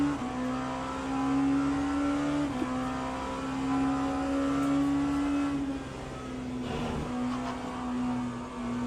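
Porsche GT3 race cars in a racing video game at Spa, heard as a steady, loud engine drone whose pitch holds and then dips as the cars pass, with a brief thud partway through.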